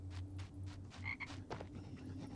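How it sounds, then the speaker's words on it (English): A frog croaks in the video game Harry Potter and the Philosopher's Stone on PS2, a few low, rhythmic croaks repeating over quiet game ambience, with no talking. "Oh, I can hear a frog."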